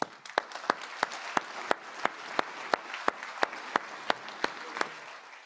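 Applause at the grand opening of the World Food Forum: a fairly soft, even run of individual claps standing out in a steady, evenly spaced rhythm over a quiet background of clapping.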